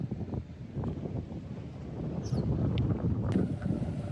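Wind buffets the microphone at an island ferry pier on Koh Samui as a low, continuous rumbling gust, with a few faint high clinks and sounds in the background.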